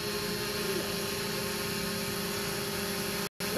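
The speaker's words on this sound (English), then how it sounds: "That time was a drone." A small drone flies overhead, giving a steady whining buzz that holds constant and fairly loud and then cuts off briefly near the end. No voices are heard.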